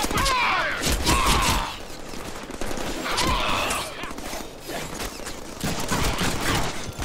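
Bursts of rapid gunfire and bullet impacts in the Deadpool video game, loud and clustered into several volleys with short gaps, over busy combat clatter.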